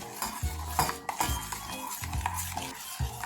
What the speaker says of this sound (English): So now we got to mix this sugar syrup into the puree that we made.